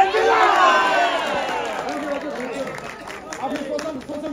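A cinema hall audience cheers and shouts loudly as a dense, roaring crowd. The noise is strongest at the start and eases slightly, with individual voices rising out of the mass.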